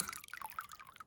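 Spring water drips and trickles from a plastic pipe running down a hillside in the Book Cliffs of northeast Utah, a faint, close, irregular patter of drops.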